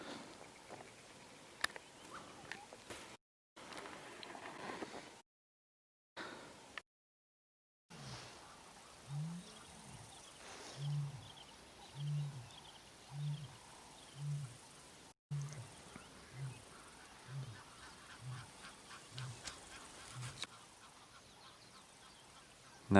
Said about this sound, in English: And I'm sure you can hear that lion roaring in the background.